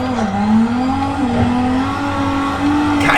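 A car in a racing video game drives at full lock, its engine holding a loud, steady drone with slight pitch wobble as it slides around the track, and a brief squeal at the end.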